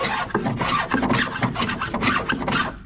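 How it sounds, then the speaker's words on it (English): A hand plane shaves the edge of a wooden paddleboard in quick, rhythmic rasping strokes, close and clear with no talking. "I'm hand planing and trying to bring this edge"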